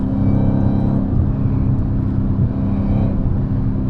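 A widebody Dodge Hellcat drives with its supercharger whining steadily over a deep, loud engine drone, heard from inside the car on a city street, continuous and close, with no talk.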